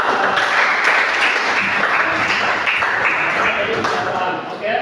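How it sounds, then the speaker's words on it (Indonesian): Loud, dense applause from a room of people, steady clapping throughout with possible voices mixed in. "tepuk tangan dulu kepada"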